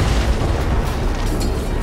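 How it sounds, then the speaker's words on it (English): Cannon fire striking a shuttle in Knights of the Fallen Empire, a dense, sustained roar of booming explosion noise with heavy low-end rumble lasting about two seconds, loud and close with no talk. "we got shot by cannons."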